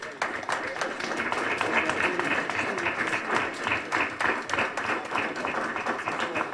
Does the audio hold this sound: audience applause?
yes